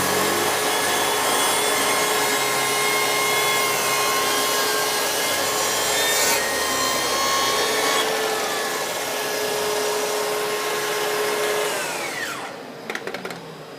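Festool cordless and corded table saws in a Systainer format cut wood side by side, a steady loud whine of blades and motors running together before winding down at the end.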